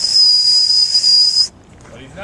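A piercing, steady whistle blown through an acorn cap outdoors, held loud and unbroken for about a second and a half before cutting off sharply into quiet background.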